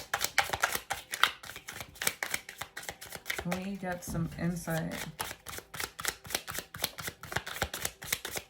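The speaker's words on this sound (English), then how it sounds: "The bigger the deck, the harder to shuffle." Someone shuffles a large tarot card deck up close, the cards riffling and slapping in rapid irregular bursts throughout, with a short spoken question over the shuffling midway.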